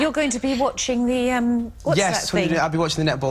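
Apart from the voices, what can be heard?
None of the usual background noises is heard.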